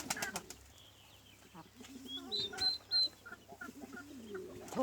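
Chickens and roosters, including Indian game roosters, cluck and squawk in short, uneven bursts in a garden, with a few sharper cries and brief flaps of wings over a low steady hum.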